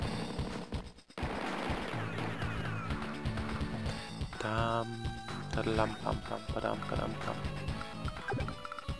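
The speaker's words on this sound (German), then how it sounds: "wir schießen jetzt einfach die da weg" Units in the Advance Wars video game open fire, a dense rattle of rapid game gunfire laid over busy, constant battle music, with no pauses through the whole stretch.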